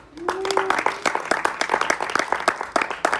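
Church congregation applauding at a French-language service, dense steady clapping from many hands over several seconds, with a voice briefly calling out early on.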